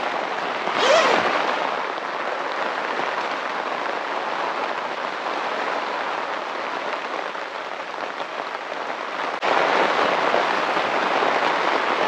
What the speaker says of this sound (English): yeah, it's going to be a rainy day.